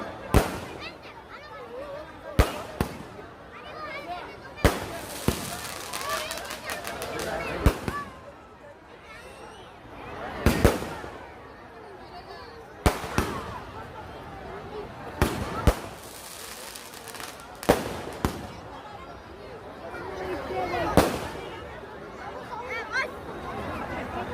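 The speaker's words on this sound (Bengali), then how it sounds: "আপনারা দেখতে পাচ্ছেন পুরুলিয়ার সুবিখ্যাত আতশবাজি" Fireworks explode in sharp, loud bangs a few seconds apart at a Ravan Dahan celebration in Jhalda, Purulia, with a crowd chattering in the background between the blasts.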